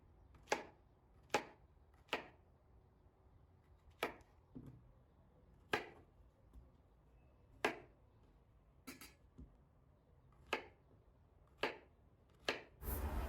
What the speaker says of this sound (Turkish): tekrar yıkıyorum ve 2 parmak genişliğinde, neredeyse 2 parmak genişliğinde dilimlere bölüyorum